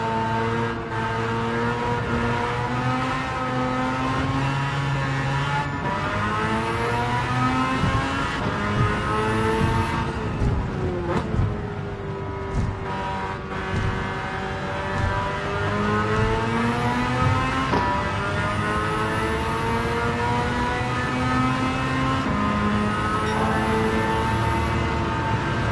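A car with a 13B rotary engine swap and an ultra high turbo revs hard through the gears in Gran Turismo 7, its engine note rising and falling steadily and loudly throughout, with no voices.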